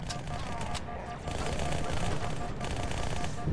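Rapid weapon fire in Halo 2 Anniversary rattles in fast bursts with a brief dip, fairly faint and continuous across the short stretch.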